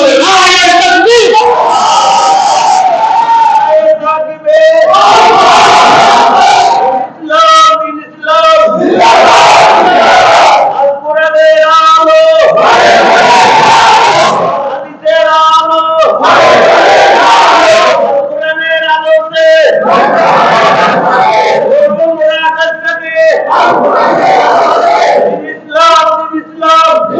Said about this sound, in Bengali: আল্লাহ পাকের সৃষ্টি শুনে জোরে সোরে তাকবীর আসে না? জোরে সোরে নারায়ে তাকবীর।